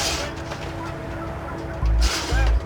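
Turkeys gobbling among farm fowl, a sustained rattling chorus of birds with two louder bursts near the end, close and dense, no human voice present.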